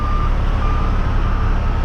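Steady, continuous high reversing beep from a truck and loader at a paving pit, loud and close over a constant low engine rumble, with no talk.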